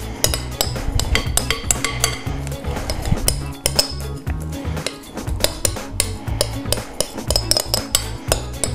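A spoon scrapes and clinks against a bowl while gathering the last of the melted chocolate, with repeated metallic taps and scrapes in an irregular rhythm, close and fairly loud.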